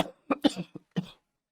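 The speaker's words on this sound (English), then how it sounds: "before I started coughing" A person coughs in a quiet room, a short cluster of four or five close, dry coughs followed by one more after a brief pause, near and fairly loud.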